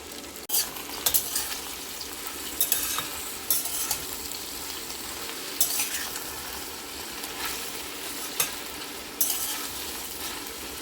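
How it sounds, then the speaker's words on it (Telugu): Okra pieces stir-frying in hot oil in a pan, a continuous close sizzle broken by intermittent scraping stirs of a spatula, with no voices. "బెండకాయ ముక్కలు ఒక పావు గంట వరకు మధ్య మధ్యలో ఇలా కలుపుకుంటూ ఉండాలండి"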